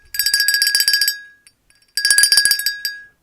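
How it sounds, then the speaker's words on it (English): A small hand bell is shaken in two quick bursts of bright, ringing clinks separated by a short pause, close and loud with no talking. "Grandma brought you a bell."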